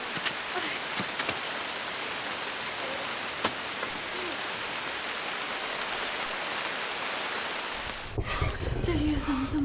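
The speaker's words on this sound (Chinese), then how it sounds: "下雨了" Steady rain falls in a broad, even hiss throughout, with a few faint drops and knocks, before an abrupt shift near the end to a nearer, muffled sound with a low rumble and brief voice-like tones.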